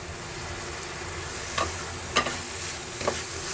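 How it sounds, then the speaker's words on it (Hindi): A spoon stirs a coconut laddu mixture with milk powder as it roasts in a pan, drying it out for chocolate coconut balls. Soft steady scraping under a low background hiss, with three clearer scrapes near the end and no speech. "इसे हमें मिला के खूब अच्छी तरह से भून लेना है, इसका मॉइस्चर खत्म हो जाने तक"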